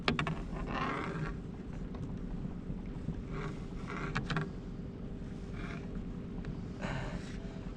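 A sailboat's engine runs on calm, windless water, giving a steady close drone with gusty rushes of microphone wind and occasional light knocks on top.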